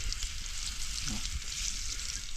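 Fish fries on a clay roof tile set over an open wood fire outdoors in a forest, producing a steady, close, crackling sizzle throughout with no talking.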